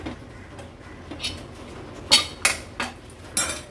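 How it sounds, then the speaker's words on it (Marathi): Metal clinks and taps as the lid of a cooled pressure cooker holding moong dal and spinach khichdi is handled and opened in a home kitchen, a few sharp, close clicks and scrapes spaced irregularly over a quiet background. "कुकर तर आपला गार झाला आहे, उघडून बघूया"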